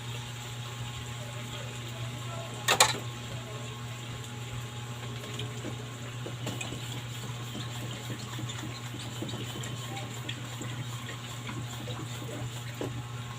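Steady stream of water running into a cooking pot for mung beans under a constant low hum, with a brief clank near the start.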